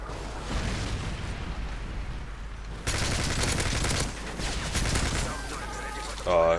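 Gunfire and launcher blasts in the Modern Warfare 3 video game, a steady barrage of shots with a louder burst partway through, close and busy, with a brief tonal effect near the end.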